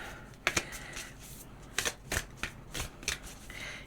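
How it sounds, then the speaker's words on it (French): A deck of oracle cards being shuffled by hand, a series of crisp riffling bursts at uneven intervals, close and fairly quiet, with no talking. "Il est dur à mélanger ce jeu."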